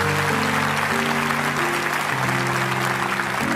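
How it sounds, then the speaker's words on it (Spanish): Steady applause from a church congregation at a worship service, dense clapping throughout with sustained music chords playing underneath. "Quiero darle un aplauso a todos esos que están de pie."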